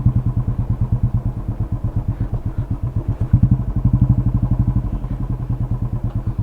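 A motorcycle runs at low speed while turning, its engine giving a steady, deep, fast thumping idle-like beat, close and loud throughout with no talk.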